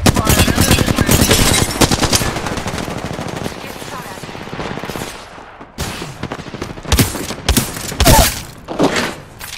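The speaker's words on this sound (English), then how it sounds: "Shots fired." Gunfire in the video game Apex Legends: dense rapid automatic bursts, loud and close, running continuously at first, then thinning into separate sharp volleys with impacts and thuds.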